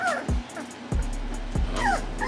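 A three-week-old American Bully puppy whimpers and yips in short, high, wavering cries at close range, with a few soft thumps between them.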